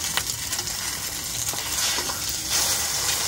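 Sunny-side-up eggs fry in a pan outdoors in a garden on a hot day, a loud, continuous crackling sizzle with bursts of spitting oil and no voices.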